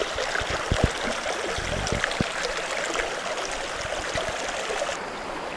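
A small icy mountain stream fed by snowmelt in the Alps near Colmars-les-Alpes, trickling and gurgling steadily, fairly quiet and close, with no voices over it.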